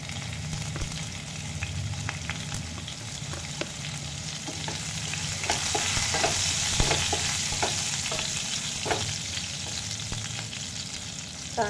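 Crushed garlic and green chili sautéing in a pan, a steady close sizzle with intermittent scraping and stirring clicks from a spoon, no voices.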